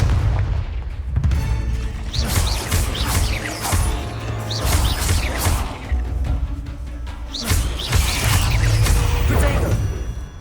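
Confringo explosive spells cast in the Hogwarts Legacy video game, with a rapid series of loud booming blasts and whooshing bursts over a dense, continuous game soundtrack.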